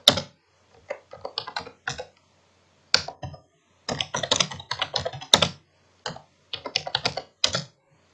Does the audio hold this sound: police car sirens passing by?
no